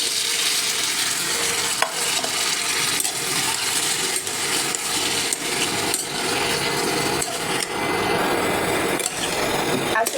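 Washed vegetables are poured into a hot pan and stirred, making a steady loud sizzle broken by repeated scraping and clacking strokes of a utensil against the pan.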